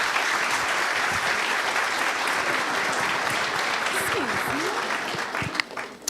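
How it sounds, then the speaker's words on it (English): An audience at an evening conversation event bursts into sustained, dense applause that holds steady for several seconds before thinning out, with a few voices audible beneath it. "Let's give David and Scott a round of applause."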